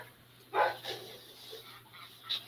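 A dog outdoors barks and whimpers in a few short bursts, moderately loud against a quiet background with a steady low hum.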